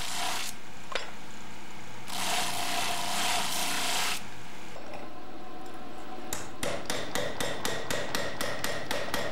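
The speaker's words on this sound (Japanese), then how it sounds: "ハンマーで表側の周辺を叩き裏すきを作っていきます。" A small hand-forged knife blade is worked first with bursts of rough grinding and rasping, then struck by a hammer in a quick, even run of about nine sharp metallic taps close by.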